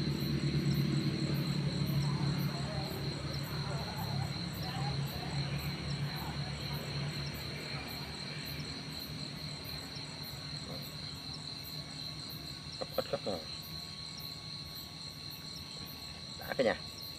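Crickets chirp steadily at night near water in the Vietnamese countryside, a continuous high trill with a low hum early on and a few sharp clicks and rustles near the end, no talk.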